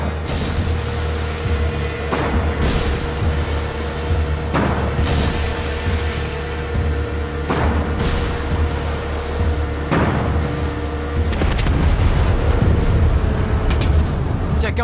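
Explosions and artillery fire rumble through a Far Cry 6 battle for Esperanza, with deep booms recurring every couple of seconds over a constant low roar and scattered game voices.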